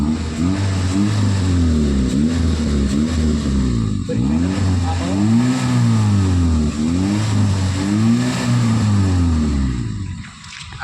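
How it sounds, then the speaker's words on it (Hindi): A 2012 Toyota Etios Liva G petrol engine heard close at the exhaust silencer, revved repeatedly in rising and falling surges, loud and steady, easing off near the end. "तो अभी आपको मैं गाड़ी का साइलेंसर दिखा देता हूँ।"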